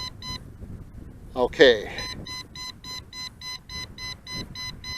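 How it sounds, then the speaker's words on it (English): A drone's remote control beeps over and over in a steady, even rhythm after losing video. A person briefly speaks partway through. "the remote control is just continuing to beep away"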